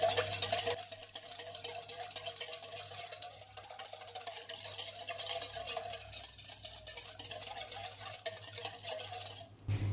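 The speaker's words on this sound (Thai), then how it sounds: "เสร็จแล้วก็ตีให้พอละลายค่ะ" Keto mayonnaise mixture with vinegar being beaten until dissolved makes a continuous quiet rhythmic whisking and scraping in a bowl, steady throughout.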